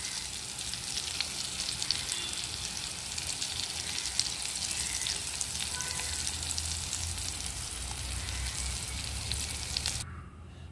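Sweet potato bread rolls deep-frying in hot oil, giving a steady, close sizzle and crackle that runs for about ten seconds before cutting off abruptly.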